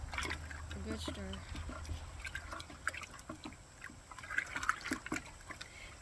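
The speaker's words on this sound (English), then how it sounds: "what I'm going to do is just give it a good stir." Liquid fertilizer made from rabbit manure is stirred with a stick, giving soft sloshing and trickling splashes, with a voice talking quietly over it.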